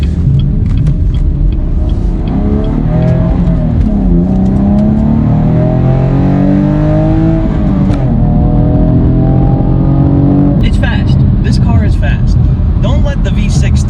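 A 2016 Chevy Camaro 2LT V6 with a manual gearbox pulls hard, its loud engine note climbing through rising revs with shifts between gears, while a person talks over the interior drone.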